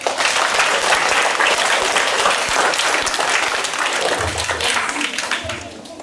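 Loud, sustained applause from children at a school assembly, many hands clapping together close by for about six seconds, with voices mixed in beneath it.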